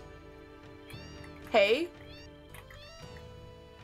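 Cat meowing in the video game Final Fantasy VII, one loud drawn-out meow standing out against quiet game music, with a brief voice speaking nearby.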